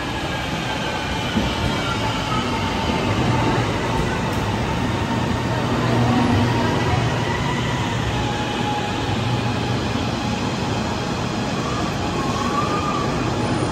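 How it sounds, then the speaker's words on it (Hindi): Steady rail rumble from a train fills a Kuala Lumpur station, a loud continuous roar of wheels and machinery with no clear break from start to finish. "ट्रेन का इंतज़ार कर रहे हैं, अब ट्रेन को 5-6 मिनट बाद आएगी"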